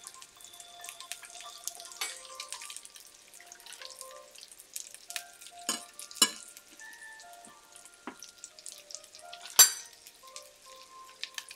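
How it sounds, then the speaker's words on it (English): Hamburger steaks fry in a pan with a steady soft sizzle and scattered pops and crackles, a few sharper spatters standing out, with no talk. "I'm going to finish this first round of hamburgers before I start frying eggies though."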